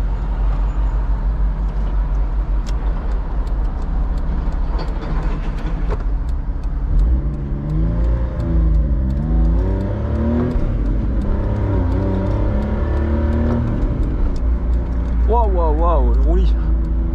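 A car imported from Japan drives and accelerates, its engine tone rising and falling through several revving gear pulls under steady road noise.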